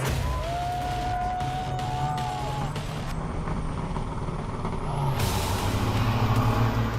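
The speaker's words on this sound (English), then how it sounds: "racing loaded in an untested, heavily modified Kenworth" A loaded, heavily modified Kenworth big rig racing on a track roars with a loud, steady diesel drone, punctuated by a sharp air-brake hiss in the opening seconds and a rising engine surge near the end.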